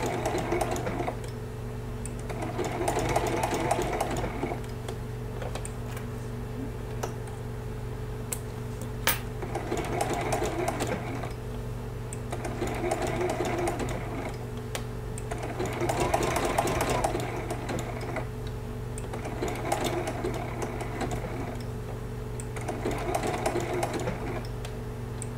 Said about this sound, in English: put on your free motion foot and speed up the smaller details of this applique and just do a straight stitch